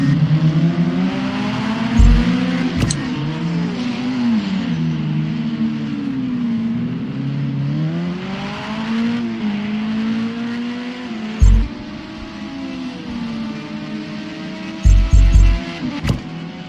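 LMP2 prototype race cars in Project Cars 2 at Hockenheim drone loudly and continuously, engine pitch rising and falling through gear changes, with a few sharp thumps and bursts near the end and no talking.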